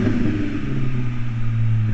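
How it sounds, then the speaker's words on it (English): Car engine fitted with an exhaust, a steady, close rumbling drone held at a constant level throughout with no distinct rev spikes, and no voices. "Give her a rev."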